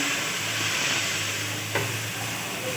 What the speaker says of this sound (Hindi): बस मसाले की अच्छे से हमने भुनाई करनी है और साथ ही अपनी भिंडियों को हम फ्राई कर लेते हैं